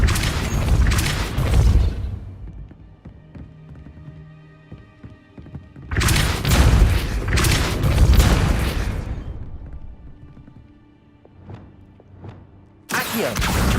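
Repulsor spell blasts from the video game Hogwarts Legacy: loud, booming bursts that land roughly six seconds apart, each starting with a sharp hit and decaying into a rumbling tail, while softer game ambience plays in the gaps.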